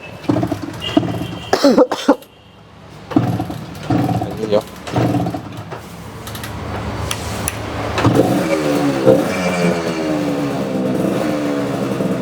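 Vintage Yamaha KB 125 two-stroke motorcycle started and revved nearby, its engine rising to a sustained raspy roar in the second half after a few shorter bursts, with a voice talking over it.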